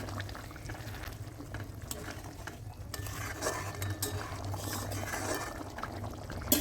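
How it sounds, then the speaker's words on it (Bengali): Fried paneer stirred into boiling water in a pan for a spinach paneer curry, with a steady simmering bubble and scraping, clinking stir strokes continuing throughout, close and moderately loud, with no talking. "এবার জলটাকে খুব ভালো করে ফুটিয়ে নিয়ে ভেজে রাখা পনিরগুলো দিয়ে দেব এবার খুব ভালো করে মিশিয়ে নিতে হবে"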